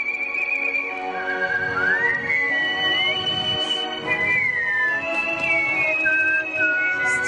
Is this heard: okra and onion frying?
no